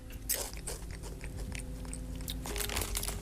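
Shrimp chips bitten and crunched up close, a run of sharp crisp crunches with chewing between, loud and without talk.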